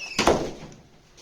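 A plant's front door swings shut with a single solid thunk, close and loud, followed by a short fading ring and no talking.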